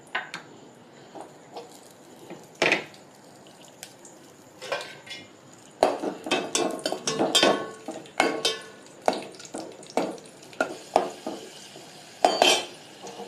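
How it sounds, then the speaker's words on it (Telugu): Raisins frying in a pan on a stove, heard as repeated clinks and scrapes of a spoon against the metal pan over a faint low sizzle, in irregular bursts. "కిస్మిస్ పళ్ళు వేపుకోవాలి"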